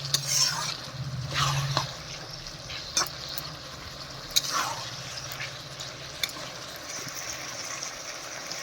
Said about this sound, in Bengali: আলু একটু ভালো করে কষে নিই মশলা দিয়ে